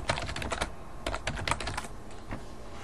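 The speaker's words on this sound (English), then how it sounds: "go ahead and type in Windows Update" Quick, irregular clicks of typing on a computer keyboard, close and fairly quiet, in short bursts with brief pauses.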